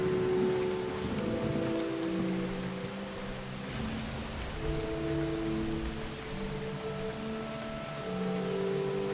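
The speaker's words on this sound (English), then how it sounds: "The rain is coming from very small clouds" Steady rain patters and hisses throughout in a video game, with soft sustained synthesized tones drifting underneath; no one speaks.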